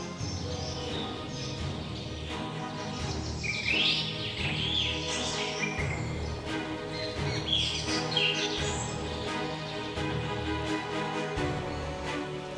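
Chirping bird calls, fitting invasive parrots such as cockatoos in Florida, ring out in repeated bright bursts over a busy, steady background texture, moderately loud, with no voices.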